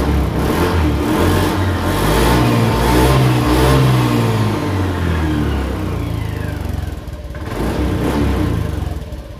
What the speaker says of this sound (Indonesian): kita coba gas-gas ya, apakah ada tarikan yang kurang enak atau berbet